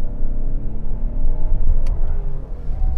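A 2021 Ford Explorer SUV engine growls steadily and close, a low rumbling drone that swells slightly as it revs under acceleration, with no voices.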